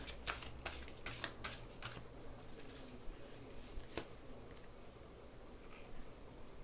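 Oracle cards being shuffled and drawn, soft papery riffles and light taps over a constant background hiss, quiet and close, no speech.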